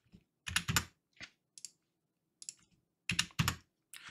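Typing on a computer keyboard, close and crisp, in short irregular clusters of keystrokes separated by pauses, with no voices.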